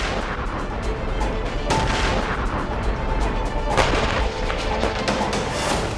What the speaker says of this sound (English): You hear explosions right now. You can hear explosions.